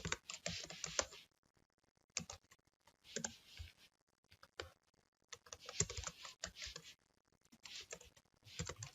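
Quiet fingers typing on a computer keyboard, clustered bursts of light clicking keystrokes separated by brief pauses, close but soft.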